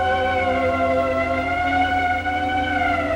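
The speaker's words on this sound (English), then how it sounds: "The ambulance." An ambulance siren wails loud and steady, a sustained rising-and-falling tone heard alone with no talking.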